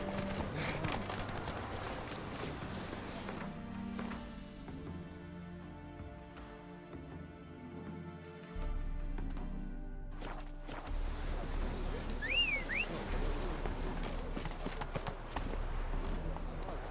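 Horse hooves clip-clopping in The Witcher 3 as a rider trots along, a steady rhythmic patter that pauses briefly and then resumes, with game music and ambient sound underneath.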